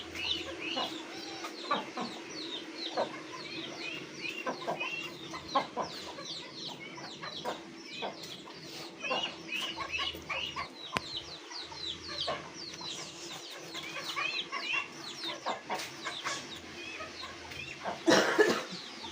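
A flock of chickens and roosters clucks steadily outdoors, with many short, overlapping calls near and far throughout, and a louder burst near the end.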